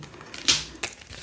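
A few quick papery riffles and soft slaps of a small number of oracle cards being shuffled, close by, with short pauses between bursts.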